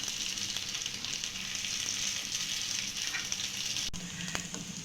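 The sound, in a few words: vegetable cake frying in a pan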